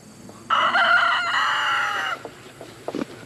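A rooster crows once, loud and close, on a farm, a long drawn-out call lasting over a second, followed by a few soft clucks.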